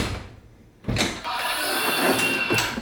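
Passenger door of a Back to the Future DeLorean time machine operating: a quiet lead-in, then a sudden mechanical whoosh and sustained hiss as the gull-wing door moves, ending with a short clunk.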